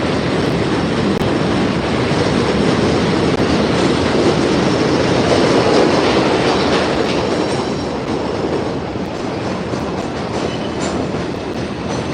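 An elevated 2 train subway passes loudly and continuously near 174th Street in the Bronx, New York, wheels clattering on the rails with a steady roar that eases slightly toward the end.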